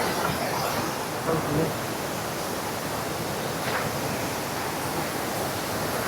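Steady broadband rush of a family-visited waterfall, a constant dense roar with no breaks, moderately loud and even throughout.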